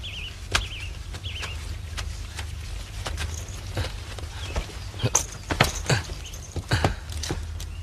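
Horse hooves clip-clop on the ground in irregular, sharp knocks that cluster toward the end, with faint background noise and no speech.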